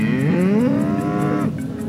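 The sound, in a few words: cattle mooing on a Montana ranch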